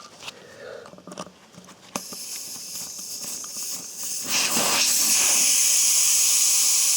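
Air hisses out of an old, cracked tire on a Volvo 940 Turbo as its valve is opened, starting with faint clicks and handling noise, then a sharp steady hiss that grows louder and continues to the end.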